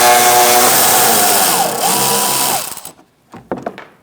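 A power driver with a T30 Torx bit whirs steadily for nearly three seconds while undoing two bolts on a 2016-2019 Chevrolet Cruze trunk lock actuator, then stops, followed by a few short clicks and handling noises up close.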